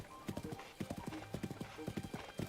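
A horse's hooves clip-clop at a brisk, uneven gait in a video game, with crisp, fairly close hoofbeats and a faint whinny-like tone in the background.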